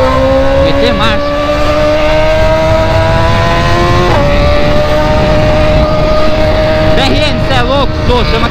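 A BMW car engine revs hard and loudly, rising and falling in close, sustained bursts with a harsh, buzzing exhaust tone that never lets up.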